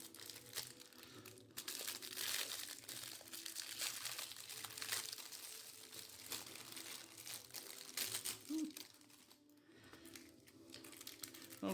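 A wrapper on a pack of 2019 trading cards crinkles and rustles as it is opened, quiet, close, irregular crackles and crumples spread across the stretch.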